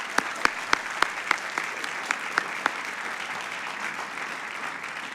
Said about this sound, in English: I just want to take a moment to give him a round of applause for all that he's done.